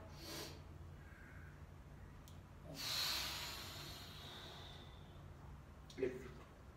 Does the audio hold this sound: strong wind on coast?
no